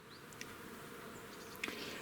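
Honey bees at a new hive give off a soft, continuous buzzing hum with a few individual insects flying close past, faint and without any voices.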